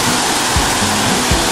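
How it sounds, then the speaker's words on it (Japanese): Shimofuri waterfall in the Yokoya gorge roars steadily, a loud, dense rush of falling water heard close and continuous throughout. "これが霜降りの滝っていうんだね"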